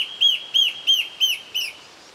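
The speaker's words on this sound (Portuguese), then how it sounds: "O seu canto potente chama a atenção." A gravatazeiro in Boa Nova National Park, Brazil, sings five loud, clear whistled notes, evenly spaced and close by, against a quiet background.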